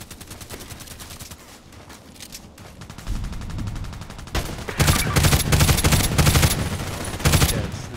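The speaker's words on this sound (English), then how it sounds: "Yes, it's like a machine gun." Rapid bursts of HK G36C rifle fire in the shooter game Contract Wars, loud and close, with rhythmic automatic volleys building up and sustained gunfire dominating the second half.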